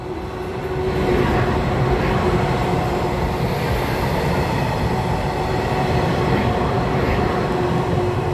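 A four-car EMU500 electric multiple unit train passes slowly on a test run on Taiwan's Western Line, producing a loud, steady rumble of wheels and motors with a faint sustained tone that continues throughout.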